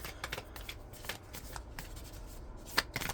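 A tarot card deck being shuffled, with quick papery riffles and card flicks in short bursts, one sharper snap near the end, close and fairly quiet with no talking.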